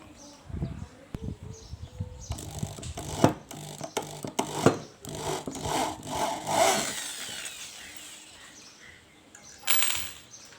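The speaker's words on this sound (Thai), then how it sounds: "เดี๋ยวเราเอาน็อตพวกนี้ออกหมดนะครับ" Base nuts are unscrewed from an inverter washing machine with metallic clinks, scraping and rattling clatter, an irregular close-up series of knocks and ratchet-like rasps, then a pause before a final burst.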